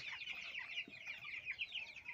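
A flock of forty broiler chicks, fourteen days old, cheeps and peeps continuously in a small farm shed, many high-pitched overlapping calls at a moderate, fairly close level.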